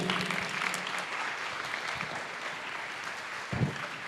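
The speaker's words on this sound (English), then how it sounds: "give a huge round of applause for Ujjwal Nima." Audience applause fills a hall at a freshers' alumni meetup at IIT Madras, steady clapping lasting the full stretch at moderate volume, with a slight swell near the end and no speech.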